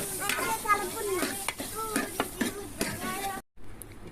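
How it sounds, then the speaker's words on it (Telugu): Spoon stirring masala into a ridge gourd and egg curry in a pan, repeated scraping clinks over a soft sizzle, close and clear, ending in a brief silence. "మసాలా అయితే వేసుకుందాం వేసుకొని మంచిగా కలుపుకుందాం"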